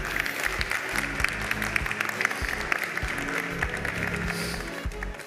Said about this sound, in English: let's take a moment to applaud a last time our winners, our jury members, and every candidate.